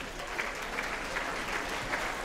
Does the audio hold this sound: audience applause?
yes